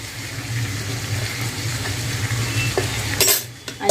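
A spoon stirs finely chopped coriander and lemon juice into a frying vegetable dish in a pan, giving a steady sizzle with scraping strokes and a few sharper clinks near the end.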